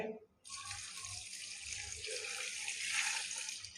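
Water pours steadily into a pressure cooker being filled for a spicy seri paye (goat head and trotters) stew, a continuous splashing stream that starts after a brief pause and stays close and loud.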